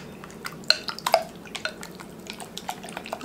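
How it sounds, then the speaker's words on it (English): Condensed soups and melted butter being stirred together in a bowl for a broccoli cheese casserole, soft wet squelches and light clinks of a utensil against the dish in a quiet kitchen. "I'll mix that a little bit."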